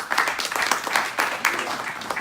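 Audience applause at a Hyde Park happy hour event for Fritz Kaegi, the Democratic nominee for Cook County Assessor, a dense patter of clapping from a modest crowd, steady with small surges for about two seconds.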